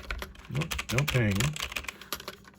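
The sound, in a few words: typing on a used Logitech G413 mechanical keyboard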